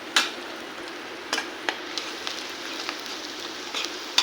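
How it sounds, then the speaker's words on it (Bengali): Chopped green chilies fry in a pan before shrimp go in for a taro-leaf dish, giving a steady close sizzle with scattered small pops and ticks. "ভেজে নিচ্ছি এখন দিয়ে দেবো চিংড়ি মাছ"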